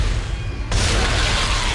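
An object blows up in the video game Dead Space: a sudden loud burst hits about midway, then a dense roar carries on steadily to the end, with no one speaking.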